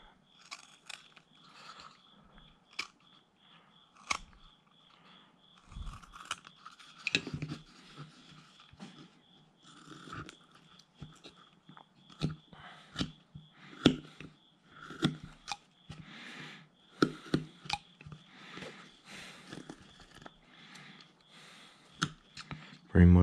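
Hand carving tools scrape and click against a wooden jack-o-lantern as bandsaw marks are cut away, irregular close, quiet cuts and taps in uneven bursts.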